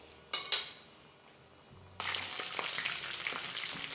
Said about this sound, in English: Now we deep fry.